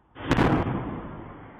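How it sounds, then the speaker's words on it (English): An explosion caught by a doorbell camera in a residential neighbourhood: one sudden heavy boom, then a long rumbling echo that fades across the streets. "This doorbell footage capturing the very moment the explosion echoed around neighbouring streets."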